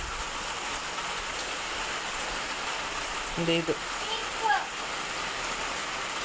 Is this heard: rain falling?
yes